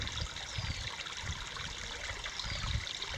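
Water trickles steadily in Willow Creek, a desert stream in a canyon in Death Valley, a soft continuous babble heard up close with no voices.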